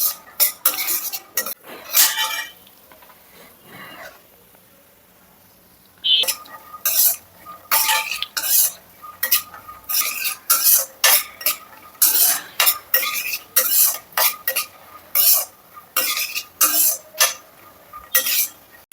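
Peanuts and dry fruits for laddu are stirred and roasted in a pan with repeated rhythmic scraping and rattling strokes, loud and close, pausing briefly partway through.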